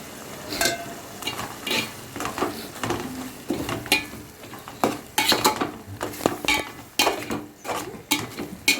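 Prawn coconut curry stirred in a pan, spoon scraping and knocking against the metal in repeated strokes over a low sizzle, close and fairly loud, with no talking.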